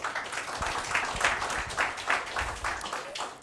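Seminar audience giving a final round of applause after a talk, a steady wash of many hands clapping at moderate distance, continuous for a few seconds with slight swells and a brief dip at the end.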